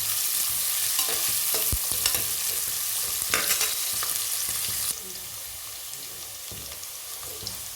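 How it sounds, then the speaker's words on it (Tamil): Onions sauté in a pan until golden for a mushroom biryani, giving a steady close sizzle with intermittent stirring scrapes. The sizzle drops slightly in level partway through. "நல்லா வதக்கி வைக்கலாம்."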